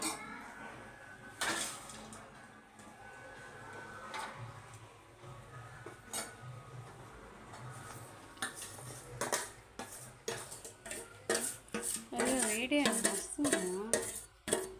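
Ingredients stirred together in a bowl with a spoon, repeated clinks and scrapes of metal on the dish that grow busier and louder toward the end, close by with no speech.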